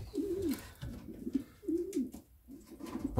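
Domestic pigeons in a loft coo in repeated low, throaty rolling phrases, fairly close and moderately loud, with no talking.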